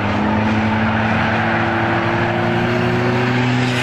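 Stock cars racing at a speedway during heat races, a loud sustained roar of several engines droning steadily together at close range.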